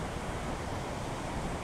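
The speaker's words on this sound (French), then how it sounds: "Alors, il y a du vent." Steady, broadband wind rushes continuously across an outdoor microphone, loud and unbroken with a roar like distant surf, and no voices over it.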